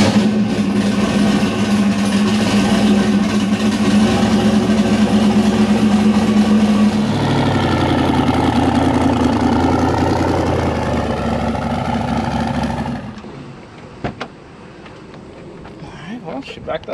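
An LS-swapped Subaru WRX runs close by at a steady, deep idle on a dyno, a dense droning rumble that holds for about thirteen seconds before the engine noise drops away into quieter rattles and clicks.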